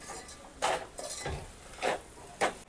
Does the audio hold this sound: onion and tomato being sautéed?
yes